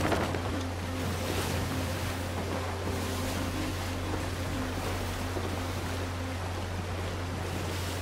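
Ocean waves in the pirate video game Sea of Thieves wash and surge continuously, with a steady low hum of wind and sea underneath and no speech.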